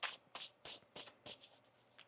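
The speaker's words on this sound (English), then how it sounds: "One more shuffle." A deck of tarot cards is shuffled by hand in about six quick, crisp bursts of riffling and flapping, close and clear with short pauses between.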